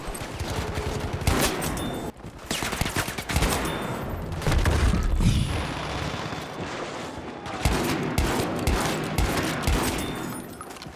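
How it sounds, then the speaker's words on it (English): Gunfire from Battlefield V, with shotgun blasts among several sharp, loud shots in irregular bursts, some rapid clusters and heavy booms, with no talking. "I think it's gonna be quite lethal."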